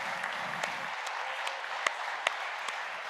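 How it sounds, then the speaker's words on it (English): Sustained applause from a crowd, a steady wash of clapping with a few sharper individual claps standing out near the end. "Let's give Iowa State University a big round of applause."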